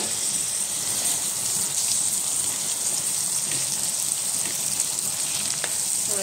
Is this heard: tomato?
yes